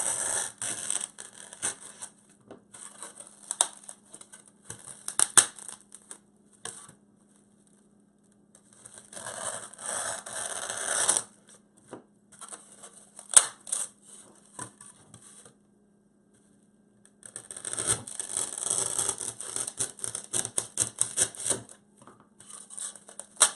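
A block of styrofoam for a rustic farmhouse Christmas centerpiece is cut by hand in bursts of rough, squeaky sawing strokes, separated by pauses, close up over a faint steady mains hum.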